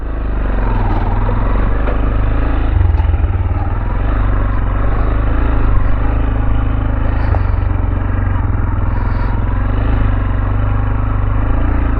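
A Tekken 250 motorcycle rides along rural tracks through abandoned villages, its engine a loud, steady low drone close to the rider with some rattling and wind buffeting throughout.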